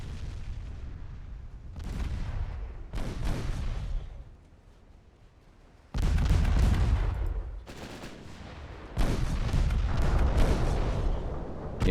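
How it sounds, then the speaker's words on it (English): Heavy booms and gunfire bursts roll out in a naval battle game set in a 1917 French campaign, where a torpedo strikes a warship, with several loud blasts separated by quieter stretches and no talk. "we scored a torpedo hit"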